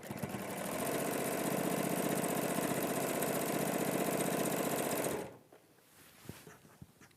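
A sewing machine stitching pieces of peach and pink fabric together runs in a fast, even, close-up whir for about five seconds, then stops, leaving quiet room sounds and faint handling noises.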